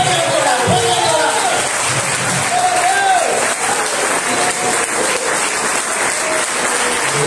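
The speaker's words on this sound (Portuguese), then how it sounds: "Você vai bater palma não para ele, mas para Jesus" A church congregation claps continuously during worship, a loud, dense and sustained wall of applause with a voice calling out over it.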